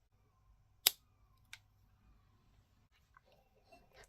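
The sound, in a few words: cutting feather for a fishing jig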